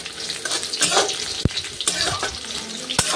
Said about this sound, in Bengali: পেঁয়াজটা একটু ভেজে নিই আগে